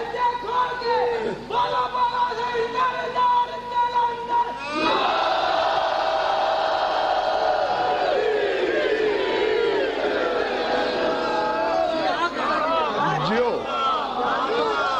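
A large gathering chants a religious slogan in loud, rhythmic unison, with a single voice leading the call and many voices answering in waves, close and crowded with some chatter between.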